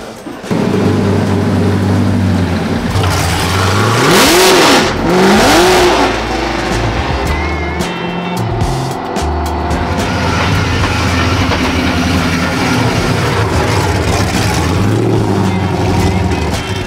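A drift car engine losing fuel pressure revs hard and loud up close, its pitch swooping up and down while the note sputters and breaks up unevenly.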